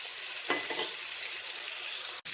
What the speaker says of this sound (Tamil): நல்லா ஃப்ரை ஆகிடுச்சு